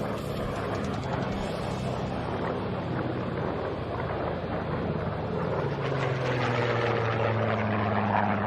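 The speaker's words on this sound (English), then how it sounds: "Quite the differences in sound between these radial engines of the PBJ" Radial piston engines of a PBJ bomber drone at the Las Vegas Aviation Nation air show, a steady throbbing roar that swells slightly toward the end, heard at a distance with no talking.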